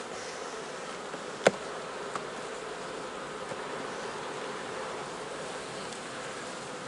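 A steady, soft buzzing drone of many honeybees in an open hive, continuous and even throughout, with a faint click near the start.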